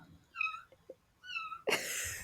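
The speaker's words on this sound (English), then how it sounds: "one of my kittens are meowing really loudly." A kitten meows loudly and close by, two drawn-out high cries separated by a short pause, then a sudden burst of broadband noise near the end.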